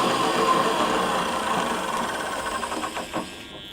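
Steady electric motor whine from a self-propelled electric forklift truck driving in reverse, a close continuous drone that wavers near the end and then drops away.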